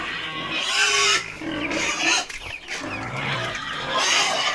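Pigs feeding, a loud close chorus of grunts, squeals and snuffling that runs almost continuously with brief dips, no talk over it.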